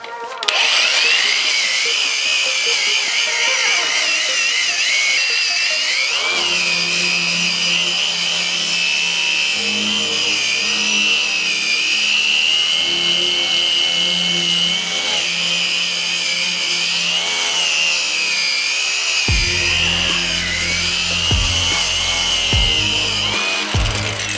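A REVOLT cordless angle grinder fitted with a wire brush scours a wooden surface at first speed, a loud steady high whine with rough scraping running throughout, briefly dipping and shifting near the end.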